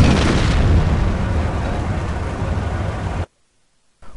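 An explosion booms in the strategy video game Company of Heroes. A heavy, broad blast rumbles for about three seconds and ends abruptly in silence. A faint sound returns just before the end.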